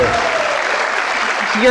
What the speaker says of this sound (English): let's give Will a huge round of applause for being here